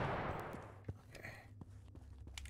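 Gunfire in The Final Station video game: a few sharp shots scattered over a low background hum, fairly faint with brief transient bursts and no talking.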